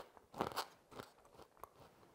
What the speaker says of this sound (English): they actually have such a good crunch